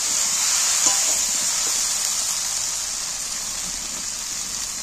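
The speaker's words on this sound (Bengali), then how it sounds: "এবার পরিমাণ মতো জল দিচ্ছি।" Water poured into a pan of oil-fried spice paste for an egg curry sets off a loud, steady hissing sizzle that slowly softens, with no talking.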